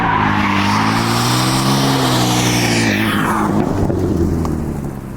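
A BMW F80 M3 with an aftermarket exhaust revs loud and close, its engine note climbing and holding high, then dropping away as the revs fall off.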